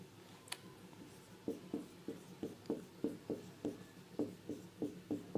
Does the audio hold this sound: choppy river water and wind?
no